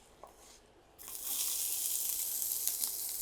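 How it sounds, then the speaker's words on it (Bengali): Whole coriander seeds and chilies sizzling and popping in hot oil for a Bengali chicken dish, a steady close crackling hiss that starts abruptly after a quiet second and continues without talk. "যে ধনিয়াগুলো ভাজা হয়ে গেছে, ফুটতেছে, আর মরিচটাও ভাজা হয়ে গেছে"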